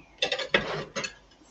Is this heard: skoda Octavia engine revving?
no